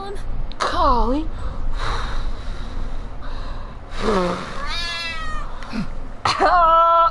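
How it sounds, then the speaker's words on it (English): A pet cat meows several times, close and clear, with rising and falling calls, while people talk around it. "That's our cat."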